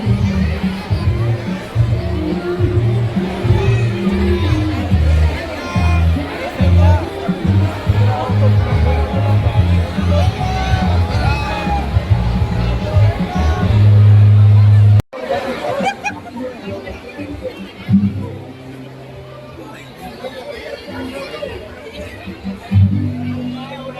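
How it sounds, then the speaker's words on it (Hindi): Crowd chatter at a Christmas function held by a Christian community, a dense babble of many voices with occasional laughter and cheers, steady and close, then thinning after a sudden cut. "यहाँ पे काफ़ी सारी भीड़ इकट्ठी हो रखी थी"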